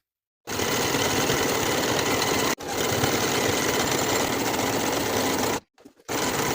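A sewing machine runs steadily while topstitching the folded hem of a denim skirt, a dense continuous whir broken by a short pause near the start and a brief stop before it resumes at the end.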